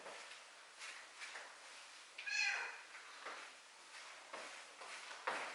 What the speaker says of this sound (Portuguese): Essa aqui é o ser que vocês estão escutando no fundo do vídeo, que não para de miar um segundo.